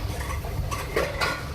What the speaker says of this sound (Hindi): अदरक लहसुन का पेस्ट डालने के बाद आपने इसको अच्छे से खूब मिक्स करना है